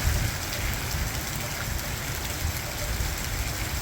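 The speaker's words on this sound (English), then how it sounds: "it is absolutely downpouring right now" Heavy thunderstorm downpour in Valparaiso, Indiana, with dense, steady rain hammering nearby surfaces in a continuous loud roar, no voices over it.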